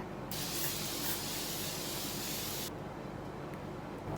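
A mineral water facial spray mists onto a face in one steady, loud hiss lasting a couple of seconds, then cuts off to quieter room noise.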